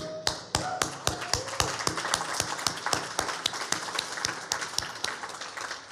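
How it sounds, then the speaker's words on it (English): Scattered hand claps build into light applause, sharp individual claps standing out against a soft crowd murmur, at the opening of the Swiss Pavilion. "And of course, a special applause here for the one and only Lorenza Baroncelli."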